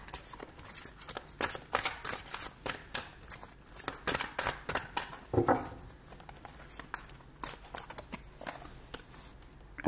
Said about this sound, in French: Je vais recouvrir la carte.